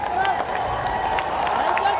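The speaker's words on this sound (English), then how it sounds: "Crowd cheering, what a reception" A crowd cheering at a cricket semi-final, a dense wash of distant roaring and clapping under a voice calling the action over the top.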